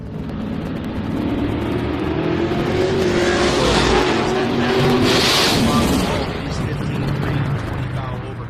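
Drag race cars launching and tearing down the strip at a memorial drag race, a loud sustained engine roar that swells and fades as they pass, with an announcer talking over it.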